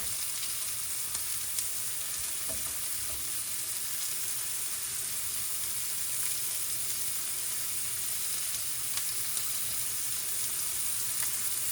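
Beef searing in a pan for stroganoff, giving a steady, close, bright sizzle with no voices over it.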